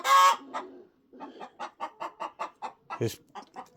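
A hen clucking in a backyard coop with nesting boxes, a squawk at the start followed by a steady run of short, rhythmic clucks close to the listener, with a brief louder call near the end.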